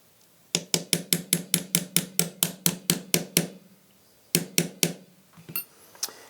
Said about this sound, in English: And then I go ahead and drive my punch in.